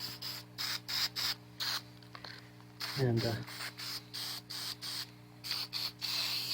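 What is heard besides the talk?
spraying WD-40 onto a universal joint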